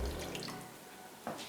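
Warm water, 90 ml, poured from close by into flour for vegan steamed bao dough, a short splashing, gushing stream that tapers off, with no voices.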